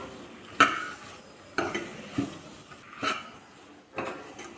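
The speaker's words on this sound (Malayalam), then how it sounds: "ഈ പൊടികളുടെ പച്ചമണം മാറുന്നത് വരെ ചെറുതായിട്ടൊന്ന് വഴറ്റി കൊടുക്കാം" Spice powders are sautéed in a pan for a tomato curry: a handful of separate scraping stirs and metal clinks of a spoon against the pan, spaced about a second apart, over a faint low sizzle.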